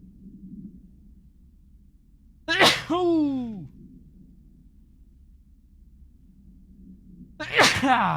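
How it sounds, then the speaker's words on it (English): Two loud, explosive sneezes ring out several seconds apart, each a sharp burst with a trailing vocal tail over quiet background hum. "I've got to sneeze. Got to sneeze!"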